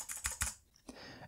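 A few quick keystrokes on a mechanical keyboard with blue clicky switches, close and crisp, followed by a softer tap and a quiet pause.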